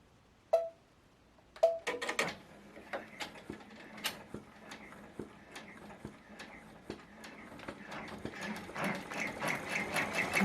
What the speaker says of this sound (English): it's going to stitch the satin stitch all the way around